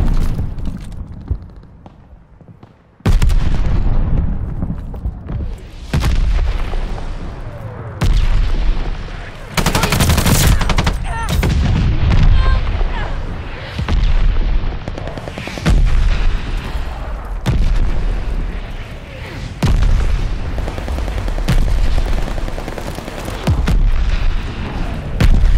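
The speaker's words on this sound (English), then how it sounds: "They're sending mortar shells!" Mortar shells exploding in Call of Duty: Vanguard, loud booming blasts amid bursts of gunfire and heavy battlefield rumble, repeated through a chaotic stretch.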